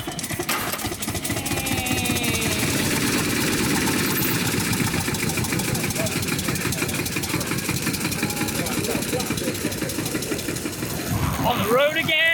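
A 126-year-old veteran car's engine runs steadily and loudly throughout, a dense chugging mechanical rumble with faint rattles, recorded close while driving out on the road.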